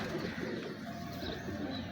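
Record-holding pigeons in a loft coo faintly and continuously, a low murmuring blend of many birds at some distance against a steady background hiss.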